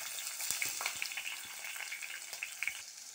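Green chillies, garlic and ginger frying in hot oil in a pan for an egg curry, giving a soft, steady sizzle with small crackles and occasional stirring sounds, faint and close, without talking.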